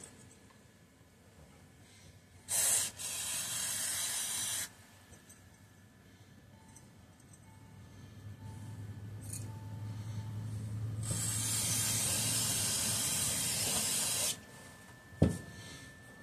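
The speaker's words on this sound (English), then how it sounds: "I'm literally just going to spray it off as it sits" Carburetor cleaner sprays from an aerosol can onto parts of a Tecumseh HH120 carburetor from a Bolens Husky 1253 tractor, two close hissing bursts, one short and one long, separated by quiet handling noises.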